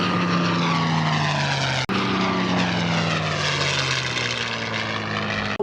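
A F4U Corsair piston-engine propeller fighter flies at the Bremerton Air Show, giving a loud, sustained engine roar with a slowly falling pitch as it passes, with no talk.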